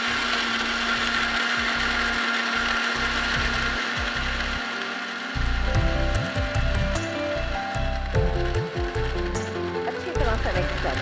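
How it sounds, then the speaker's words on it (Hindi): An electric blender whirs as it purées whole apple with the peel still on, a loud steady motor drone that shifts pitch midway, with someone talking over it. "अब मैं इसको ब्लेंड कर लेती हूँ"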